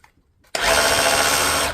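A Dewalt DCH273 rotary hammer starts up in drill mode after a brief quiet, then runs as a loud, steady high whine close by, with no talk.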